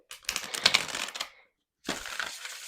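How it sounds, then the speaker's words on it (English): A deck of tarot cards is shuffled close by in two bursts of rapid, crisp riffling and flicking, with a short pause between them and no talk. "Let's give them a shuffle."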